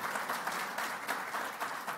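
An audience applauds a political speech, a faint, dense patter of many hands clapping continuously at a distance.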